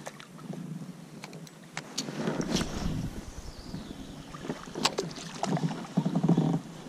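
Oars splash and knock as a small fishing boat is rowed on open water, rhythmic dips over wind rumble, fairly close and moderately loud.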